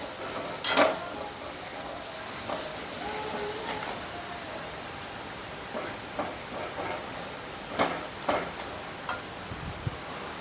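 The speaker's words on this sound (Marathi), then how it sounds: "तर आता हे छान असं परतवून घ्यायचं मसाला सगळा" Onion-garlic chili masala fries in a pan with a soft, steady sizzle, broken by a few sharp scrapes and clicks of stirring, faint and close with no voices.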